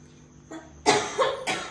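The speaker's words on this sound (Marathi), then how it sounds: "खोकला काही कमी झालेला नाही," Two harsh, close coughs from a person with a lingering cough, a quick breathy rasp followed by a second burst, heard alone in a quiet home kitchen setting.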